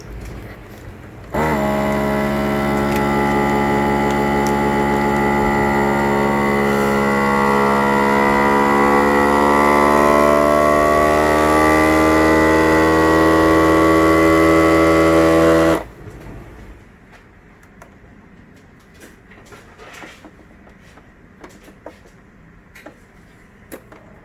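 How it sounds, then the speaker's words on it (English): A vacuum sealer pumps air from a flat bag, a loud, steady motor hum with a slowly shifting pitch lasting about fourteen seconds. It then cuts off abruptly into quiet room noise with faint small clicks. "You just put the bag right in there nice and flat, hit vacuum and seal, and watch what happens."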